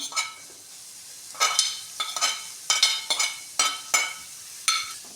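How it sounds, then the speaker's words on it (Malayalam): Potato and capsicum stirred in a pan for a bread veg roll, heard as a series of sharp scraping strokes of a spoon, about eight in quick irregular succession, over a soft sizzle. "അത് നന്നായി ഇളക്കി കൊടുക്കാം"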